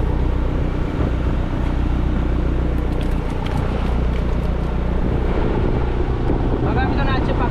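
Fishing boat engine at sea off Mumbai on a deep-sea pomfret trip, a steady loud low drone with wind buffeting the microphone and water rushing throughout, with no break.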